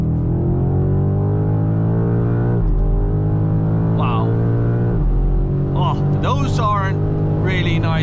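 A BMW M5 G90 accelerating hard, its engine note climbing in pitch and then dropping with crisp upshifts at regular intervals, loud and close, with a voice talking over the later part.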